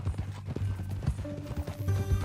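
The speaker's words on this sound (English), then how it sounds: "That new horse?" Horse hooves clip-clopping at a walk in Red Dead Redemption 2, a close, regular rhythmic beat on the ground with a faint tonal hum beneath.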